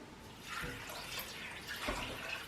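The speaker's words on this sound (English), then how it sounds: "And we're going to pour half a liter of stock here." Half a liter of stock poured into a pot of lentils with black sausage, a soft steady liquid splash running continuously at low level with two slightly stronger surges.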